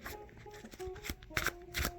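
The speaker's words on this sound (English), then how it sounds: "Give it a little shuffle" A deck of Pokémon trading cards is shuffled by hand in a few quick riffling bursts, close and fairly quiet, with no speech.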